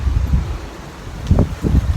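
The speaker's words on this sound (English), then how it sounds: "it's getting really windy" Gusty wind buffets the microphone, a low rumbling roar that rises and falls in strong bursts ahead of a storm, with no voices.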